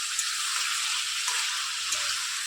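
Nigella seeds and green chillies sizzle steadily in hot oil in a home kitchen, a loud continuous hiss with faint stirring, no voices.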